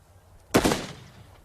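A single close rifle shot from a Royal Marine firing in the field cracks out sharply after a short quiet stretch, with its report decaying over the following second.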